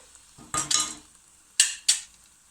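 Spices being mixed into an onion and yoghurt gravy in a pan, with a few close scraping strokes of a spoon against the pan in short bursts over a faint quiet background.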